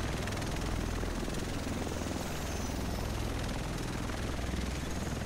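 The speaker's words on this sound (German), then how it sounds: "Der Rest von uns sitzt in diesem Heli." Helicopter in the video game The Division, a loud, steady rotor and engine roar with dense chopping texture, continuous and close throughout with no speech.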